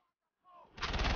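A grenade detonates in a first-person shooter video game. A brief rising whoosh leads into a sudden, loud, broadband blast that fills the final half-second.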